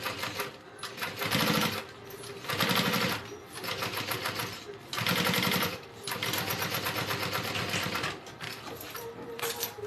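A sewing machine top stitches a Denver backpack in several bursts of rapid, steady whirring and needle clatter, separated by brief pauses, close and loud with no talking.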